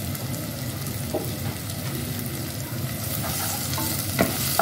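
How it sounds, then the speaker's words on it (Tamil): Chopped onion and three green chillies sizzle in a pan as they are stirred, a continuous crackling hiss broken by the scrape and knock of the spoon, with a few louder clatters near the end. "போட்டு நல்லா மிக்ஸ் கொடுங்க. வெங்காயம் ஓரளவுக்கு நல்லா வதக்கும்."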